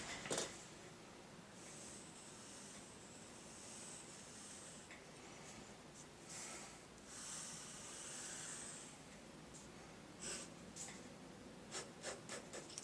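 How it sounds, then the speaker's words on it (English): An HB pencil scratches across paper while a drawing is tightened up, a soft, steady hiss of graphite with strokes that swell and fade, and short quick marks near the end, close and quiet. "I'm going to tighten it up here with some HB pencil."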